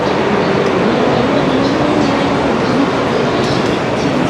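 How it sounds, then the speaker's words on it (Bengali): A loud, continuous rumbling roar of a bullet train rushing past close by, steady and dense throughout. "এই যে বুলেট ট্রেন যাচ্ছে"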